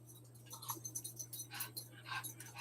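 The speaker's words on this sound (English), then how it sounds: "if you hear a lot of huff and puffing and toenails tapping on the ground, I gave the dog a bone earlier" A dog carrying a bone huffs and its toenails tap quickly on the floor in a quiet room, with soft rapid clicks and breathy puffs over a low steady hum.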